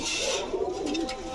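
Pigeon cooing at a Bangladeshi pigeon dealer's, where a silver-tailed, green-necked racing hen pigeon is shown: low, soft, warbling coos roll on continuously over a steady hiss of background noise.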